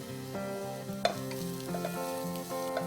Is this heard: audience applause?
no